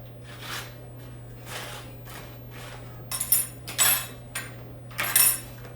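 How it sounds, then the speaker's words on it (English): Fork stabbing through aluminum foil wrapped over grilled carrots, a string of soft crinkly pokes building to several sharper, louder crackles and rustles near the end, close and alone over a steady low hum. "I'm just gonna pierce the aluminum and get in there"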